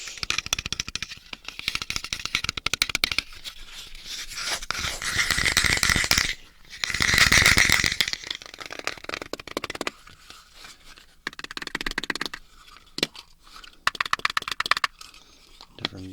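Wooden ASMR props of different densities being handled: dense, close scratching and rattling clatter that swells into a loud, continuous rub, then breaks into scattered knocks and shorter scrapes.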